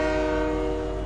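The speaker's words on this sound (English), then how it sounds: "I hear the train." A train at a station in a video game sounds a steady, loud horn made of several sustained tones, with a continuous low rail rumble beneath it and no voices.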